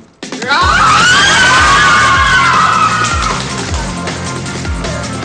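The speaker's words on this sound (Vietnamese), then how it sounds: "thì tất cả 13 cô gái đã hét ầm ĩ lên và rất là vui rất là phấn khích" A group of thirteen young women on a televised modeling competition scream excitedly together, a loud, sustained burst of overlapping high-pitched shrieks that starts suddenly and slowly fades, with rhythmic thumping beneath.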